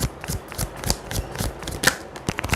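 Tarot cards riffle and slap in a close, brisk series of papery flicks and taps, an uneven rhythm of shuffling and drawing with nobody speaking.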